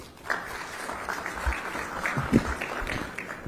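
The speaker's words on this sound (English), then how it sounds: "Round of applause, please." Audience applause at an international aerospace manufacturing conference in Visakhapatnam after a defence and aerospace advisor is introduced, a steady wash of clapping across the clip with a few louder bursts.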